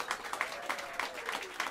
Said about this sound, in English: help me welcome them to the stage with some warm applause